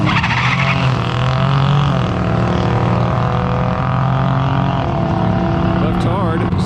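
A Buick Regal T-Type with the Grand National turbo six roars steadily through a drag strip run at night, a loud sustained engine drone with shifting pitch, while a voice talks over it.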